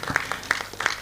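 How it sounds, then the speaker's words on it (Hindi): Audience clapping for an honored guest at an award ceremony, a short burst of close, fairly even handclaps with no voices. "सर रामी सर के लिए एक बार जोरदार तालियां हो जाए"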